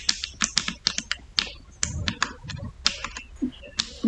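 Typing on a computer keyboard during a Roblox Arsenal match comes through as quick, close clicks and clacks in irregular bursts, some keys struck harder, with short pauses between flurries.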